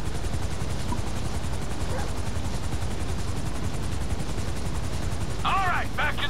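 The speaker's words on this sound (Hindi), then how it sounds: "बैठो भैया हेलीकॉप्टर में।" A helicopter in GTA V drones steadily and loudly throughout, with a brief burst of gunfire-like crackles near the end.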